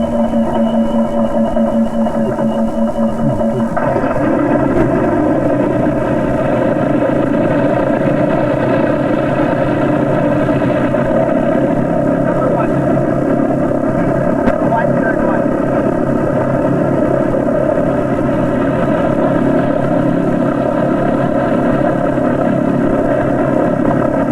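Engine number 2 on an aircraft turns over and catches, the low mechanical drone stepping up and settling into a steady propeller roar, with voices calling out over it.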